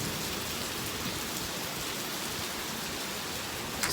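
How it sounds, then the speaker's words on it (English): Hail falls steadily during a March hailstorm, a dense, even hiss of countless small impacts that continues unbroken for the whole stretch, with no voices over it. "Nice hail core right there."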